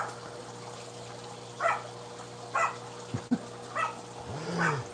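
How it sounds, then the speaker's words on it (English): Dog barking outdoors at a distance, four or five separate muffled barks spaced about a second apart over a low steady background hum. "Y'all hear that crazy dog out there barking?"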